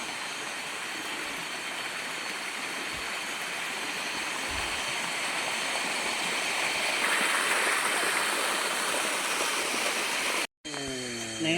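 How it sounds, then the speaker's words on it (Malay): Sebeloy waterfall in the Ulu Sebauh forest, a broad continuous roar of falling water, loud and steady throughout, with a brief gap near the end as a few faint tonal sounds slip through. "Air terjun Sebeloy, cantik guys"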